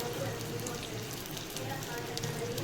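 Peppercorns and cumin seeds fry in oil, giving a faint, steady low sizzle with small crackles throughout.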